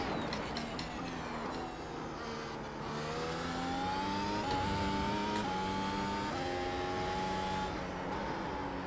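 A Mercedes W12 Formula 1 car screams through a hot lap at Zandvoort, its high-pitched engine rising and falling through gear changes, loud and close from an onboard perspective, with no talking.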